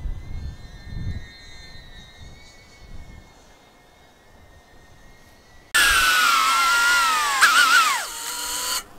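A DJI Avata drone carrying a GoPro Hero 10 is faint in the distance at first, then roars up close with a loud high-pitched propeller whine that wavers in pitch as it comes in to land outdoors.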